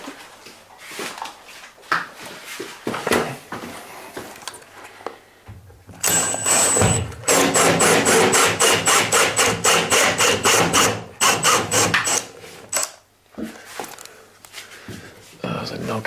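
Power drill boring a hole through the finished plasterboard ceiling of a new-build house, a loud grinding burst in the middle preceded and followed by nearby talking and handling noises.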